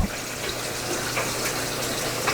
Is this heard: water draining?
yes